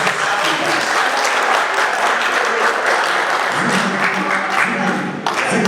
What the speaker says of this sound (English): You are clapping too hard for me.